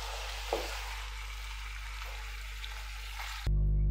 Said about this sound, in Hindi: इसको हल्का सा फ्राई कर लेंगे, 4-5 मिनट इसको फ्राई करके